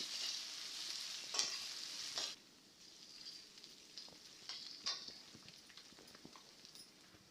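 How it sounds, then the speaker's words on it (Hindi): Garlic and ginger fry in hot mustard oil with whole cumin in a kadai, giving a steady close sizzle broken by stirring scrapes and sharp spits. It runs louder for the first couple of seconds, then settles lower. "रसुन आ अदा को किछि समय भाजी नबा।"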